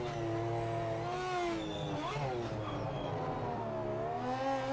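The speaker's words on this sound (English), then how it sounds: "Car is singing." A race car engine in the Project Motor Racing video game holds a loud, sustained, steady whine that climbs and dips through revs and gear changes. The engine plays alone with no talk.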